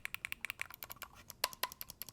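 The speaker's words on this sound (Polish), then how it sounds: "przełączniki wewnątrz mechaniczne i mają bardzo dobry punktowy klik" Crisp mechanical button clicks from a gamepad's mechanical switches, pressed in quick succession, close up and fairly quiet, with an uneven rhythm and no talking.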